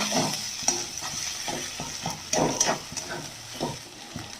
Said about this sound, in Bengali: এবার ভালো করে একটু নেড়ে নেবো আবার